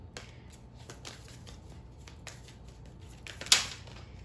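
A Moonology oracle card deck being shuffled by hand, soft riffling and card slaps at close range with a sharper snap near the end, faint overall and with no talking.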